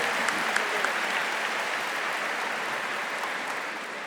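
A concert audience at the Zlatna Bubamara 2026 festival in Macedonia applauds a singer, a dense, even clapping that holds steady throughout with a few sharper claps early on.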